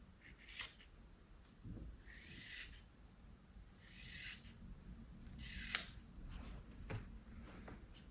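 Scissors cutting the fabric seam allowance of a long open-back dress, several quiet separate snips spaced about a second apart, close and faint with no talk.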